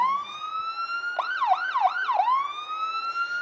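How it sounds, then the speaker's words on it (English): A police car siren wails steadily at a Christmas parade, then breaks into a few quick rising-and-falling yelps before settling back to a long wail; loud and close. "They all got those sirens going."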